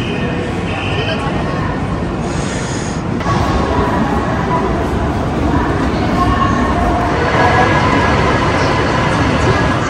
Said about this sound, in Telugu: మనం వచ్చిన ట్రైన్ ఇదే.